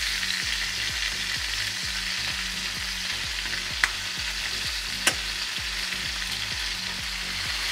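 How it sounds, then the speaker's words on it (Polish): Chicken sizzles steadily in a hot pan, a dense crackling hiss with two sharp pops and a low rhythmic hum underneath; no one speaks. "I obsmażamy z drugiej strony, również na taki złocisty, fajny kolor"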